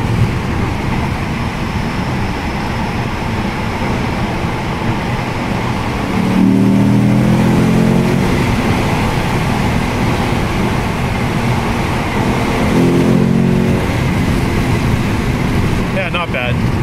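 Lexus GS F V8 engine revving in two short bursts with the window rolled down, rising loud over steady road and cabin drone while driving in traffic.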